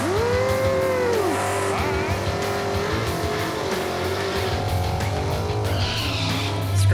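A 1979 Ford Fairmont on a drag strip revs its engine hard for a smoky burnout. The engine pitch climbs and sweeps up and down over a steady roar, with a loud, sustained sound close to the microphone.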